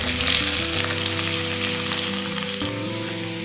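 Onion sizzles and fries in hot oil with urad dal and green chilies, a steady, close, continuous crackle that holds throughout with no talking.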